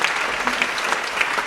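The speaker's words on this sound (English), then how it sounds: "How about a round of applause for those folks?" Steady, dense applause fills the room for a restaurant kitchen team at a tribute event at the Angus Barn Pavilion, with loud sharp claps throughout and no voices over it.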